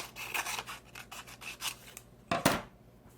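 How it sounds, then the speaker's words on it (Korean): Scissors snip through folded paper while a paper model gun is cut out, a run of quick rasping cuts followed by one louder, sharper snip near the end, close and alone. "다음 거는 또 갖고 와서 반으로 자르고, 그 다음에 가운데를 잘라주세요."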